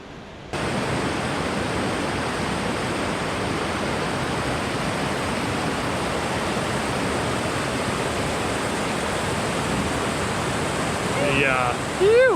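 River rapids in the Australian wilderness rush with a loud, steady broadband roar that runs unbroken after a brief quiet start, alone with no voices and only a faint chirp near the end.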